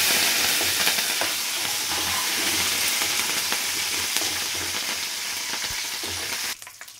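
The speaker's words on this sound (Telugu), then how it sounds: "నెక్స్ట్ చిన్నుల్లిపాయలు, ఎండుమిర్చి, కరివేపాకు వేసుకున్నా." Small onions, dried red chilies and curry leaves sizzle vigorously in hot oil as a tempering for a mango chutney, a loud, continuous crackling fry with light stirring, cutting off sharply at the end.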